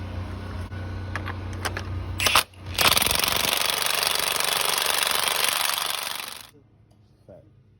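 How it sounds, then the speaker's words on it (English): Impact gun driving a harmonic balancer bolt on an 05-08 Grand Prix GXP, with a brief rattling burst followed by a loud, sustained hammering rattle lasting several seconds, then stopping. "Now we're gonna use our impact gun to screw it back in"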